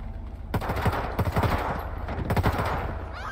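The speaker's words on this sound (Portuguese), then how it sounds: "Nossa, essa metralhadora tá boa." Rapid bursts of machine gun fire in GTA V, several quick volleys of sharp close shots over a steady background of game noise.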